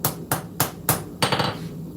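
A forging hammer striking an anvil face in a blacksmith's shop, five sharp ringing blows in a steady rhythm roughly every third of a second, loud and close with a metallic decay between hits.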